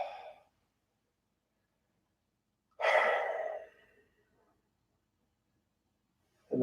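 A single long exhale during a yoga routine, a soft airy breath in a quiet room that lasts about a second, with faint short breaths at the start and end.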